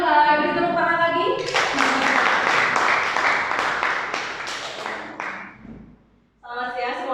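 Students clapping in a classroom during a group presentation: sustained, fairly loud applause for about five seconds, set between stretches of speech before and after.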